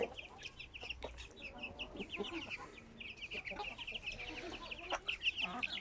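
Backyard hens cluck steadily, with overlapping calls from several birds close by and some soft movement and scuffling underneath.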